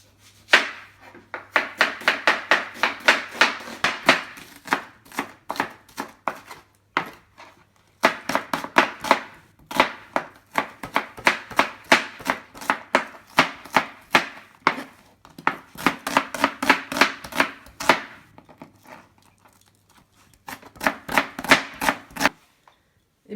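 A knife finely chops onions rapidly and steadily on a cutting board in long bursts of quick, even strokes, separated by brief pauses, close and crisp.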